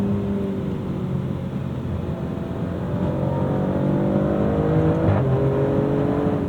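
Maserati Grecale Trofeo engine revving hard through gear shifts in Corsa mode, a loud, steady drone climbing in pitch with a brief dip and rise at each shift, heard alone from inside the cabin.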